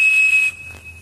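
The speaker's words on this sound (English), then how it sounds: "When you blow the whistle into the phone" A Captain Crunch cereal-box toy whistle sounds a steady, piercing 2600 Hz tone for about half a second, then cuts off leaving a faint trace.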